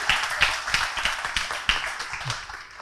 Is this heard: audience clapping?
yes